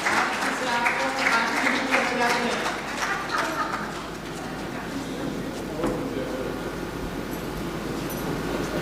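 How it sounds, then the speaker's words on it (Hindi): An audience at an Indian poetry gathering breaks into loud applause to welcome a poet from Kanpur, the clapping swelling over the first few seconds and then thinning to scattered claps amid room murmur. "एक बार जोरदार तालियों से स्वागत"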